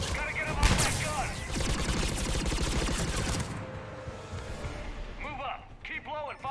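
Gunfire in Mass Effect from an enemy-held gun: dense rapid automatic bursts and crashing impacts for several seconds, then a quieter stretch where a voice talks over distant shots.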